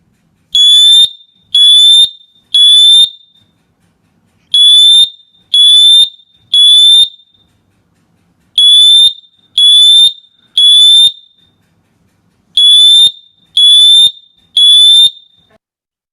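A ULC smoke alarm sounds its temporal pattern: loud, piercing electronic beeps in groups of three, each group separated by a short pause, repeating four times close to the listener.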